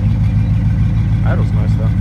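A 1994 Corvette engine idles steadily with a low, even rumble and a faint uneven vibration from a slight misfire, while someone talks briefly over it.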